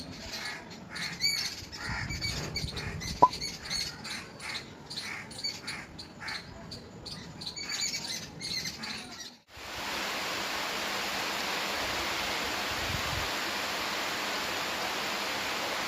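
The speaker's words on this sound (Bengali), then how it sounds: "আজকের ব্লগে আমরা দেখবো সকাল থেকে পাখিদের কলরব" Morning birdsong in a natural setting during changeable weather with sun and rain, with scattered chirps and squawks over a noisy backdrop that shifts midway into a steady, dense hiss.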